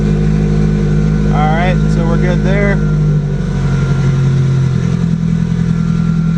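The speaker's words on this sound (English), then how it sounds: "Engine speed still at 1500." A Subaru Impreza GC8 engine idles steadily at 1500 rpm during a cold start, a constant low hum running through the clip beneath a man's nearby speech.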